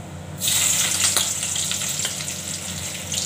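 Onion hits hot oil spiced with bay leaf, cumin, black cumin and chili, bursting into a loud, close sizzle after a brief quiet start, then crackling steadily without speech.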